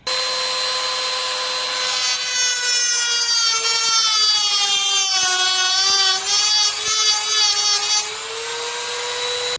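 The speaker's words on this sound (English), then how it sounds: "This piece of aluminum, I'm not sure whether I'll be able to cut it, but then let's see." Loud, shrill whine of a Dremel saw-tooth wheel cutting aluminum, a sustained high-pitched scream with wavering pitch that grows louder after the first couple of seconds and stays steady close by.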